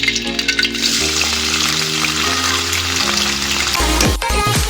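Bitter gourd sizzles and crackles steadily in hot oil, with a brief clatter of a utensil near the end.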